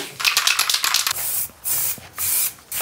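Short hissing blasts from a spray can of fast-drying, matte, scratch-resistant lacquer, first a rattling run of quick bursts and then three longer sprays, close and loud.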